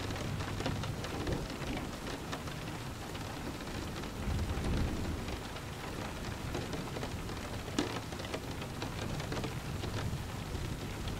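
A steady thunderstorm with rain pattering densely on surfaces and low thunder rumbling underneath, swelling into heavier rolls around the middle; continuous and immersive with no voices.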